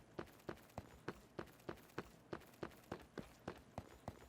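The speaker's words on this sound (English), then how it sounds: "This one's all about the footsteps." Footsteps run across gold blocks in Minecraft, a steady quick rhythm of about fifteen crisp, clinking steps over four seconds, evenly spaced and fairly quiet, with no talking.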